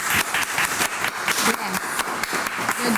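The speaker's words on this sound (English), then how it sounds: "I think they deserve another round of applause" Applause from a crowd, steady dense clapping filling the space for a few seconds, loud and continuous.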